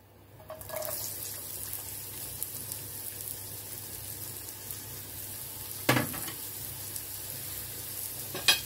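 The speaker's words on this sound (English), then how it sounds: "Put your oil in the wok. Add your onion." Onion hits hot oil in a wok and sizzles continuously, a steady close frying hiss with a couple of brief clatters of stirring.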